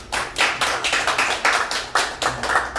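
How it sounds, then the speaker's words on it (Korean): Audience clapping for an introduced guest at a Korean gathering, steady close handclaps in a lively burst with rhythmic swells, no talk over it. "황대식 회장님 박수 한번 쳐주십시오."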